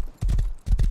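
A horse ridden in a video game gallops home, its hooves landing in two quick bursts of heavy, close thumps with no talking over them.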